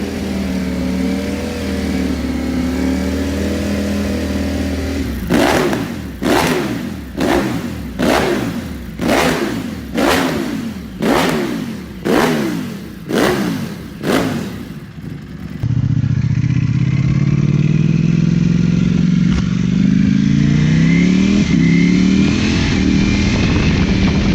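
Ducati Panigale V4 with twin-pulse firing and a 70-degree offset crankshaft rumbles at idle, then gives a series of about ten sharp, loud blips of the throttle before settling into a sustained high rev.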